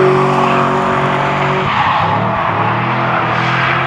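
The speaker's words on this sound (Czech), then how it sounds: "Fialová S13 je momentálně poslední auto na trati, který není BMW" A purple Nissan S13 drift car slides around the Lausitzring circuit in Germany, tires squealing loudly and continuously over a droning engine note that shifts pitch as the car skids past.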